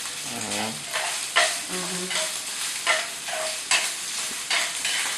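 American fried rice ingredients are stir-fried in a wok, making a loud, steady close sizzle with rhythmic scraping strokes of the spatula every second or so, and no talk is heard.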